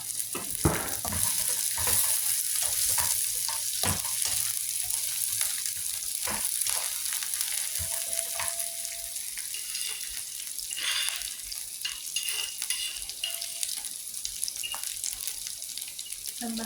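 Long beans and tomato stir-fried in a hot pan give a steady, close sizzle with scraping stirs and occasional clatter throughout, no talking.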